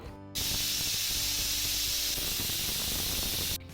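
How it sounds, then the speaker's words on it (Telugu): A pressure cooker of potato and green pea masala curry lets off a single loud, sustained hissing whistle of escaping steam, cutting in abruptly and stopping after about three seconds, heard alone. "2 విజిల్స్ వచ్చి ప్రెషర్ రిలీజ్ అయిన తర్వాత కుక్కర్ మూత తీసి"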